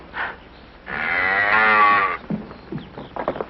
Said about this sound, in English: Don't tell me you bought a cow.